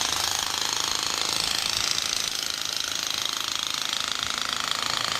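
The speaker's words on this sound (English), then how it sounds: "Where else can you hear a pneumatic drill on the streets of Phnom Penh?" A pneumatic drill on a street in Phnom Penh hammers nonstop at a rapid, even rate, loud and close, with a harsh metallic rattle and no pauses.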